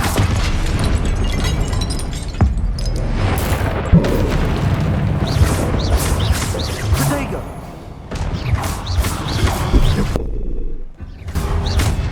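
Confringo blasting spells explode in Hogwarts Legacy, a run of loud booming bursts and crashing impacts that come one after another, layered with whooshes and clutter from the game.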